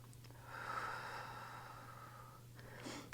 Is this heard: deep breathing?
yes